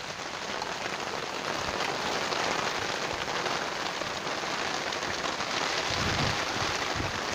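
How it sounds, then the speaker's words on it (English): Steady rain pattering on surfaces outdoors during a bike tour, a dense continuous hiss that holds at an even level throughout with no voices. "it's only just now starting to rain for the first time."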